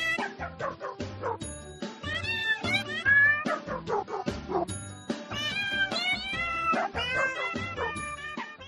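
Christmas song built from cat meows, with rapid pitched meows forming a melody over a steady bouncy beat, plus some dog-like yips, played fairly loud without talk.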